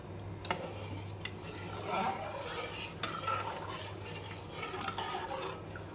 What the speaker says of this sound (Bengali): ভাতটা আস্তে আস্তে হোক একটু হালকা নাড়তে হবে